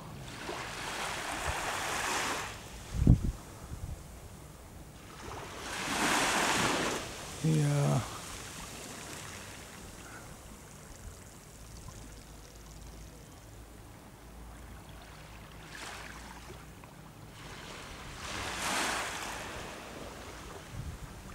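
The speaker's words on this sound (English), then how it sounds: "The security boat is there." Wind and surf wash over an open-water scene, with swells of noise rising and falling and a brief knock and low hum of a motorboat partway through.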